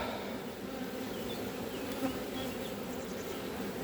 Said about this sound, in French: J'ai tapé un peu le cadre, donc Je les fais voler un peu les abeilles.